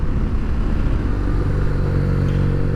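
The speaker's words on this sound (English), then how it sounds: "A nice thing about this twin cylinder, it revs up a little bit more slowly than on your sport bike." A 2019 BMW R nine T's air-cooled twin-cylinder engine revs steadily, a loud, close, lumpy rumble that builds slowly and holds a throbbing low tone throughout.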